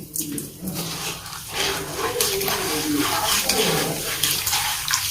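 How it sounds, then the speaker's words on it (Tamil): Running water poured over a mercury preparation to wash it, a continuous splashing tap-like rush that fills the whole stretch with shifting gurgles and no talk. "தண்ணி விட்டு முதல்ல கழுவணும்"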